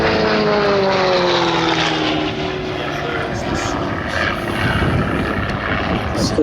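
Flying Bulls aerobatic propeller aircraft climbing out at an airshow, a loud steady engine drone with falling pitch as it pulls away, heard over crowd noise with a commentator talking over it.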